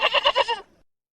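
A goat bleats once in a loud, wavering cry of several quick pulses, close and alone, ending abruptly in silence.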